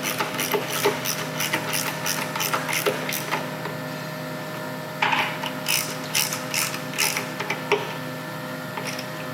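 A ratchet wrench clicks rapidly while tightening 2 1/2-inch bolts on the ECM caddy of a 2021 Harley-Davidson, steady pawl chatter in repeated bursts with short pauses, close up and without talk.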